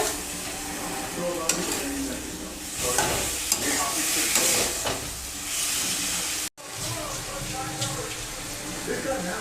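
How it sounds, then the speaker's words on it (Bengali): Spices, chilli and tomato paste sautéing in a pan for a potato and fish curry, with a steady sizzle, repeated stirring scrapes and a brief dropout partway through. "লঙ্কা টমেটো বাটা দিয়ে দিলাম ভালো করে কষাবো"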